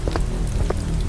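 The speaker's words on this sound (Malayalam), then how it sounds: "ചെറുതായി മഴ പെയ്യാൻ തുടങ്ങി" Light rain has just begun, a soft, even patter of drops on surfaces that fills the short stretch steadily, with no voices.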